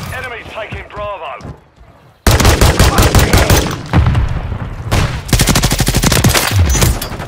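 Automatic gunfire from a Mk 46 light machine gun in Modern Warfare 3 multiplayer on Dust to Dust, loud rapid bursts after a short radio-style voice line, with dense overlapping shots and game sounds throughout.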